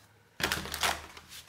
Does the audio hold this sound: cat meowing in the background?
no